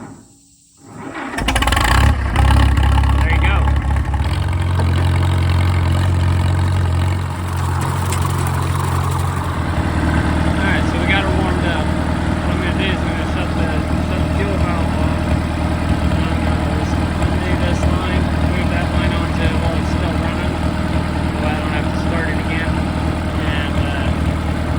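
A Farmall tractor running on used motor oil is warm-started, cranking briefly then settling into a loud, steady low engine drone that shifts pitch once as throttle changes, close by, with a person talking over it.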